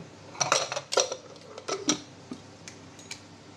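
A pressure cooker lid clanks and clicks as it is fitted and locked shut over a pot of trotters, several metallic knocks in short clusters, close and fairly quiet.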